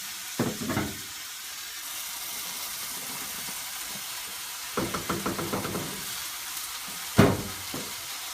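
Chopped vegetables dropped into a hot pan for pasta sauce: a steady sizzle and hiss with a few clattering knocks and scrapes of stirring, close and moderately loud, with no talking.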